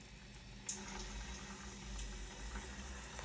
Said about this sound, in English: We're going to start emptying out the water.